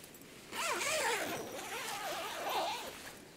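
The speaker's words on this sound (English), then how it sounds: "You have a zipper at the top." The door zipper on a Hilleberg Unna tent is pulled open in a few quick, rasping strokes, close and fairly loud, with no voices.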